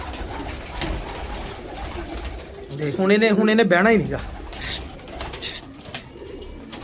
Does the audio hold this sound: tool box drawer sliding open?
no